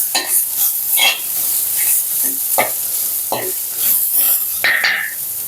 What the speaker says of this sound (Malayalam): മസാലയുടെ ഒരു പച്ച മണം പോകുന്നത് വരെ നമുക്കൊന്ന് വഴറ്റാം